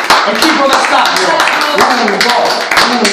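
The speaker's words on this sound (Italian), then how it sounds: "Per l'attestata di arrostaio ci vuole un applauso" A crowd claps and cheers in a loud, stadium-style burst of applause for an Italian roast-master's certificate, dense hand claps running steadily throughout under talking voices.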